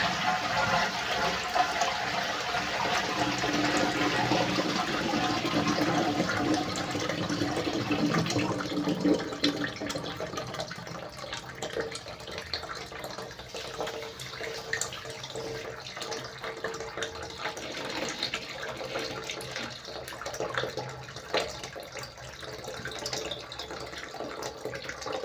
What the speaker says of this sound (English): Let me just open the water and flush the toilet so that I can see if this thing works.